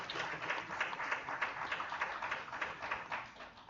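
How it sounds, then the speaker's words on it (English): An audience applauds the marketing presentation teams, giving a steady patter of many hands clapping at moderate distance that holds for several seconds without talk. "Let's give a big round of applause to all the teams for their creativity in marketing."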